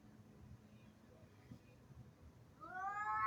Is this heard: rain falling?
no